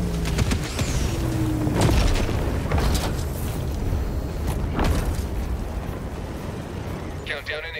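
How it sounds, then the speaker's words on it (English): Orbital strike in Helldivers 2 slamming down as a string of heavy booms and blasts, loud and rumbling, with a few sharp bursts and game voice chatter near the end. "Orbital strike coming in."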